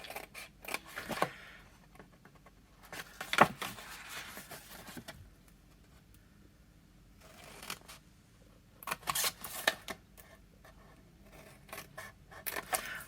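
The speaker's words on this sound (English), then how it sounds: "we're going to cut up on all the score lines" Paper being cut along score lines for a Stampin' Up! box, heard as short bursts of close, crisp snipping and scraping separated by quiet pauses.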